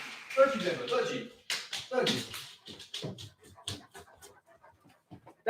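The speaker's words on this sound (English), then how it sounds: "That is my dog." A dog pants and shuffles about close by, with quick panting breaths and soft taps and slaps of movement, while a person talks over it.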